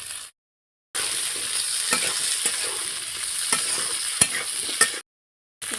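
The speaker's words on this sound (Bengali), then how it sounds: "সব কিছু ভালো করে ভেজে নেব।" Potatoes, broad beans and peas fry in a pan while being stirred, giving a steady close sizzle with scraping spoon clicks, broken by short silent gaps at the start and end.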